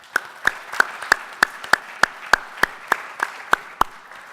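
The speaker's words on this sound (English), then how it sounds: "really want to thank all of our expert panelists with a round of applause" Sparse, evenly spaced handclaps from a small audience at a CTIA trade show panel, about a dozen sharp claps in a steady rhythm over quiet room tone, sounding like only a few people clapping.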